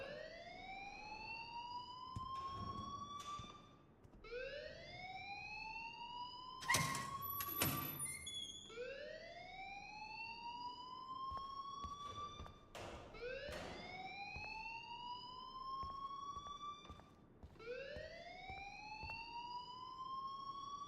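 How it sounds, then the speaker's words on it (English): An alarm rings in the Life is Strange video game, a loud repeating electronic whoop that sweeps upward in cycles every couple of seconds, interrupted briefly by a sharp clatter, with no talk. "please turn off that alarm since that's your job"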